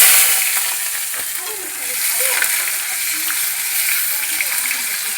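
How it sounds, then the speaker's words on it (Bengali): Chopped tomato drops into hot oil during preparation of a Bengali pui shak ghonto, giving a loud, steady sizzle and hiss that runs the whole time, with faint stirring and some voice beneath. "দিয়ে দেবো টমেটো কুচি"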